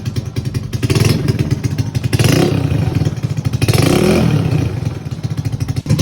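A Yamaha Mio motorcycle engine revs hard with a loud, throaty cheap racing exhaust, rising and falling in bursts, close by, continuous throughout.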